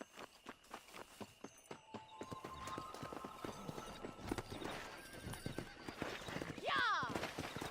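Horses in Red Dead Redemption clip-clopping at a quickening pace, hooves thudding rhythmically and building toward a gallop, with a loud neigh near the end and voices talking over the hoofbeats.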